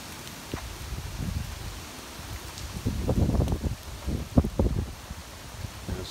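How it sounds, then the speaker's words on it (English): Strong coastal storm wind in NYC tearing through tree leaves and small branches, a rushing, surging roar of rustling foliage that swells and gusts, heard up close outdoors with no talking. "Just hear that wind. Extremely powerful."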